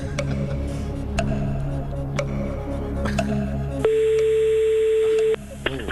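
A telephone number is dialed on a computer during a French comedy sketch, with a series of sharp tone beeps over a steady background hum, then one long sustained tone.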